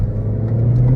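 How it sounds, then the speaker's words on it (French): Renault Clio 4 RS builds speed under turbo boost, a loud, close engine drone with a rising low tone heard from inside the car over about a second. "Oh là là, la pression du turbo c'est dingue."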